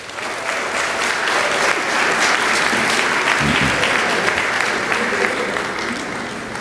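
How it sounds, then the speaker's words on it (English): Graduates' families and relatives at a college commencement give a sustained round of applause, a dense, even wash of many hands clapping throughout. "round of applause"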